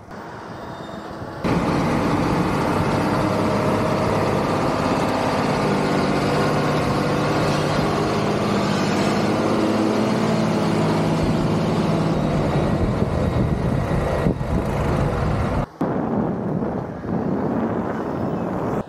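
A John Deere tractor works a maize silage pit, compacting the crop, with a loud continuous engine rumble and wind buffeting the microphone, then a brief dip in the noise near the end.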